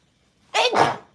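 A single sharp sneeze bursts out close by in a quiet room, one loud two-part explosive breath lasting under a second with no talking around it.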